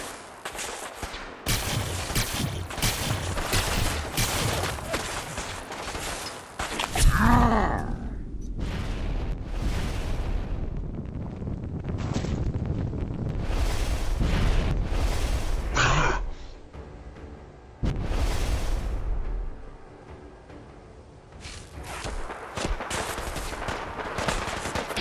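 Gunfire and explosions from the video game Fallout 4: dense, loud bursts of shots and booms that run nearly the whole time, with brief pauses between volleys.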